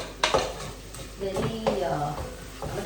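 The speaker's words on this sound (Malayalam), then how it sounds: "ഗോൾഡൻ ബ്രൗൺ കളർ ആവുന്ന വരെ ഇളക്കാം. നല്ലോണം വഴറ്റും ഉള്ളിയൊക്കെ." Onions frying in a pan are stirred with a utensil, producing scraping clinks and knocks against the metal over a soft sizzle, while a voice talks in the middle.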